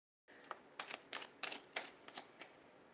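Tarot cards are shuffled in a series of quick riffling bursts, close and soft, repeating rhythmically after a brief silence at the start.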